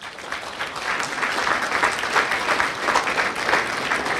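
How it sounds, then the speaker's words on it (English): Graduation-ceremony audience at a high school commencement applauds the teachers, a broad, sustained rush of clapping that swells slightly after the first second and stays full and even to the end. "Let's give them another round of applause."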